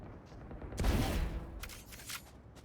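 Video game gunfire erupts in a loud burst of shots, followed by fainter crackling shots trailing off, with no talk.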